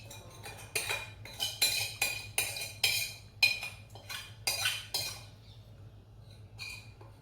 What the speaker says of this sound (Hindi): चाय के और सब्जी के बर्तन हैं, पहले वो साफ कर लूँ